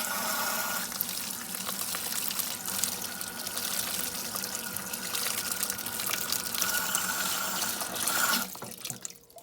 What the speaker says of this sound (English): So I'm going to rinse that out as well.